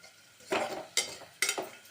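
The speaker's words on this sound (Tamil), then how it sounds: "ஒரு 5 நிமிஷம் பரட்டி விட்டுக்கலாம்" Salted vegetables for vegetable pulao stirred in a pan, heard as three soft scraping sweeps at a steady pace over faint background frying, quiet and close.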